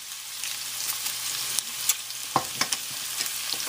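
Garlic cloves fry in oil in a pan as the start of a Fra Diavolo seafood sauce, a steady close sizzle with occasional sharp pops and stirring clicks.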